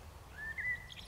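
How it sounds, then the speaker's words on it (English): Outdoors in a landscape near a citadel, a bird gives one brief, clear chirping call over quiet background ambience. "pick up some sound and let you listen to the birds sing."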